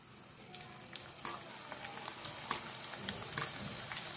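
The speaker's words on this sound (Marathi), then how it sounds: "शेंगदाणे तळून झाले की मनुके टाकूया आपण। मनुके तळून घ्यायचे।" Raisins fry in hot oil for poha chivda, giving a faint, even sizzle with light patters and crackles throughout, quiet and close.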